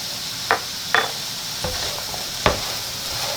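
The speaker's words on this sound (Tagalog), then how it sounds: "Tapos haluin lang ng maigi." Food frying in a pan is stirred after salt and ground black pepper go in for a breakfast burrito filling, giving a few brief scraping strokes over a faint steady sizzle, close and without talk.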